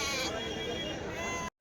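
Sheep and rams at a Tuesday livestock market in Kadiri bleat close by, a drawn-out cry over crowd murmur and talk, ending in a brief cut to silence.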